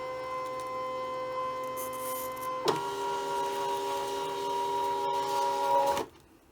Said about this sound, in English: we're going to scan in our fabric, the material on the mat